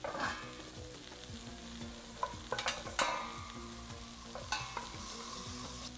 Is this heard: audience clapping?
no